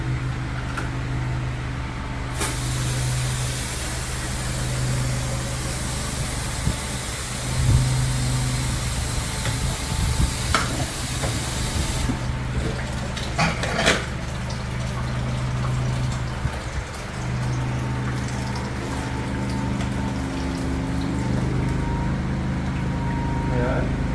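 A steady engine hum from a Philking PK9000 inverter generator drones throughout alongside an electric water pump motor and rushing water, with people talking intermittently over the noise.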